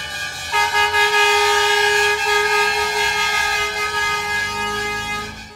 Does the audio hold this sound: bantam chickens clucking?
no